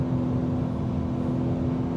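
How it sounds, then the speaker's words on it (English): A BMW E92 M3 engine on a track at Lime Rock, a steady droning hum held at an even pitch and loudness, heard from inside the car with no voices. "you're probably able to hear the engine sound right now"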